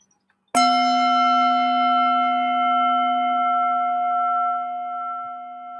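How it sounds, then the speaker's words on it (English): A single bell is struck once to open a worship service, ringing out clearly and then sustaining a long, pure, slowly fading tone with no talk over it. "will start us with the bell"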